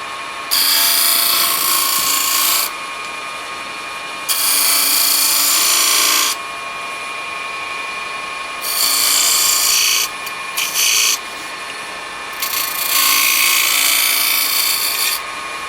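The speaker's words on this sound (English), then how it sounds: "So now I'll come back up with a skew, and I'll cut it in here, and I'm worried about tapering that off. Now I'm going to turn this into a little bead." A wood lathe spins while a skew chisel cuts a small bead, giving loud bursts of bright, hissing cutting noise that start and stop repeatedly over a steady motor hum, with no talking.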